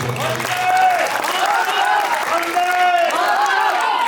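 Audience applause at a Hindi kavi sammelan, a poetry gathering organized by a journalists' council in Paota, with steady crowd clapping throughout and a voice ringing out over it.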